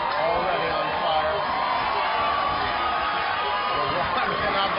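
Crowd cheering and whooping at a basketball shooting challenge against LeBron, a steady dense roar of voices that stays loud and unbroken throughout.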